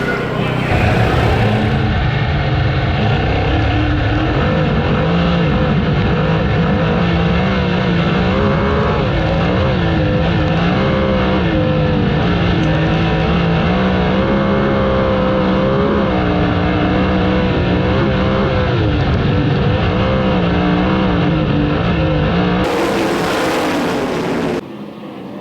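Sprint cars race at the Knoxville Nationals, their engines giving a loud, sustained, rising and falling roar that stays continuous throughout and cuts off near the end.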